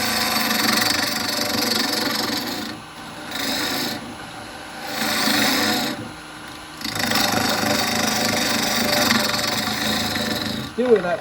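A lathe hollows a very hard walnut burr bowl with a carbide tool, giving a loud rasping scrape in repeated passes with brief pauses between cuts over the steady hum of the machine.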